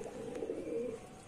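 Soft, low cooing of Lalban ghagra pigeons rolls out in a short burst, close and muted, with no speech.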